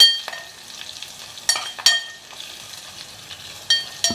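Asafoetida dropped into hot ghee for tempering sizzles and crackles in a pan, with sharp spattering pops and utensil clinks breaking through a steady soft frying hiss.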